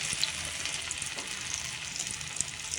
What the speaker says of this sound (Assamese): পকৰাবোৰ ফ্ৰাই কৰিম।